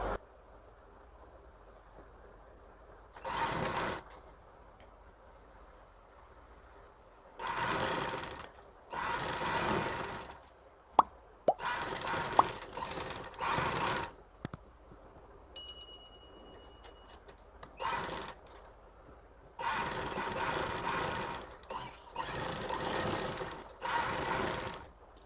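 An electric sewing machine stitches a seam on a men's pajama in several separate bursts of a few seconds each, with quiet pauses and faint fabric handling between runs.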